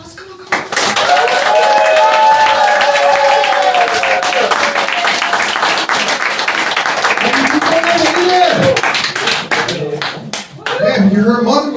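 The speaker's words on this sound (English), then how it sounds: "Give it up. Big applause." A crowd claps and applauds loudly at a comedy show, with sharp individual hand claps, a few whoops and voices mixed in before the clapping fades and talking resumes.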